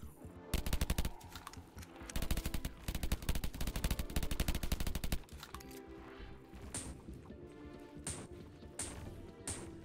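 Rapid automatic gunfire from a gun in an Inside Out roguelike video game, a dense stream of loud shots that runs for about five seconds, then gives way to a few spaced single shots over game music.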